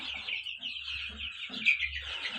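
Chickens cluck repeatedly, close and fairly loud, against continuous high chirping from young chicks and a low background hum.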